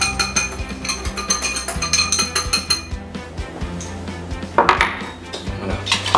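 Cornstarch and sugar tipped into a larger bowl, with a run of clinking and knocking from dishes and utensils, irregular taps and scrapes close by with no voice.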